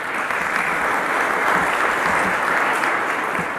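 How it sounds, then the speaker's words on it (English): A summit audience gives sponsors a round of applause, a thick, even roar of many hands clapping that stays loud and steady throughout. "So let's please give them a round of applause"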